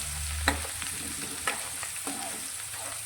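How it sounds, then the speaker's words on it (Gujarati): Chopped onion sautéing in a pan for a green tomato curry, a steady soft sizzle with a few sharp stirring clinks from a spoon against the pan. "તો ડુંગળી આપણી થોડી સંતળાય,"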